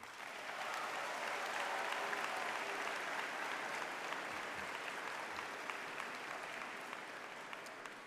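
Large commencement audience at a 2024 high school graduation cheering and applauding steadily for friends and family, a dense, sustained wall of clapping with crowd noise that holds loud for about eight seconds.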